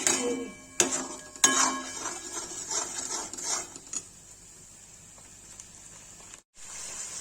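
Cauliflower roasts in a pan with salt as a spatula stirs and scrapes it, producing several clinks and rubbing scrapes over a steady sizzling hiss that runs throughout.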